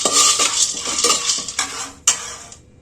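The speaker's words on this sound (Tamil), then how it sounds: "நம்ம கூட கொஞ்சம் கடலையை போட்டு வறுத்துக்கலாம்." Peanuts roast in a pan as a spoon stirs them, giving a steady close scraping and rattling with faint sizzling and a sharper knock near the end.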